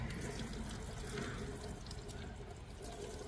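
Water runs from a tap in a steady, close-up splashing stream throughout, with no voices.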